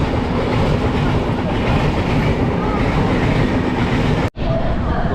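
Tamil Nadu Sampark Kranti Express running through Gudur railway station: a steady, loud rumble of wheels and carriages with faint rhythmic clatter, cut by a brief dropout near the end before the rolling noise resumes.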